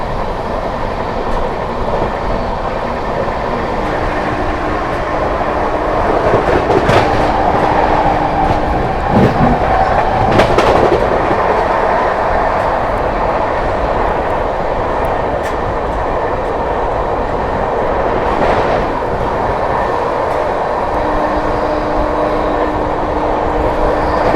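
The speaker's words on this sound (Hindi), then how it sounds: "अब जा करके रफ्तार बनाई है अपनी मऊ आनंद विहार सुपरफास्ट एक्सप्रेस ने" Mau–Anand Vihar Superfast Express running at speed, a loud steady rumble of rolling wheels and carriages with rattling rail noise throughout, rising briefly in intensity midway.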